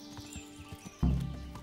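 Horse hooves clip-clopping during a ride in Kingdom Come: Deliverance, the galloping footfalls growing suddenly louder and close in a steady rapid rhythm after a quieter stretch of faint steps.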